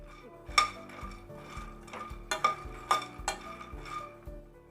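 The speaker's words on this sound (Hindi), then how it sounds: "मखाने मैंने पैन में डाल दिए हैं, इनको मीडियम आंच पर ड्राई रोस्ट कर लेंगे।" Makhana (fox nuts) dry roasting in a pan over medium heat, giving a series of sharp clinks and rattles as the light puffed seeds knock against the metal, with a steady low hum beneath and no speech.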